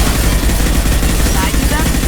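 Rapid gunfire from a sci-fi shooter game, Mass Effect, a dense, loud, continuous burst of shots filling the whole moment.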